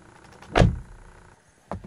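A Mercedes-Benz E-Class door shuts once with a firm, close thump, followed by a short quiet pause and a second, lighter clunk near the end, with no talking.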